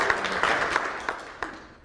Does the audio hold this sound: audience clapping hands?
yes